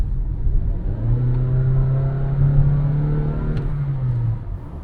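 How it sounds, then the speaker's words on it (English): A Honda HR-V with a CVT is floored from 40 km/h, giving a steady, loud engine drone that holds at a constant pitch for about four seconds instead of rising through gears, over road rumble. "Watch this, for example, 40 kilometers per hour, and I'm just going to floor the throttle"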